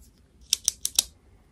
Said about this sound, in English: tell me on which ear, on which side you can hear the pen clicking